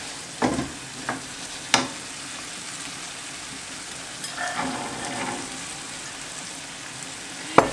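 Peas and cured ham fry in a pan with a steady close sizzle, broken by a few sharp scrapes and stirring clunks, and no one speaks.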